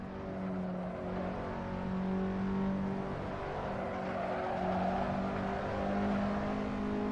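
A car engine pulls hard around a race track during a track day, a close, continuous drone with steady harmonic tones that rise and dip slightly, alone with no talking.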